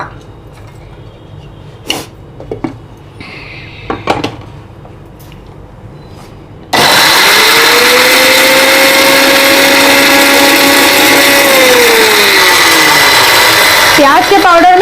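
A kitchen mixer grinder reducing dried onion to powder starts with a sudden loud, steady whirring roar that continues to the end, after a few quiet clinks and handling knocks.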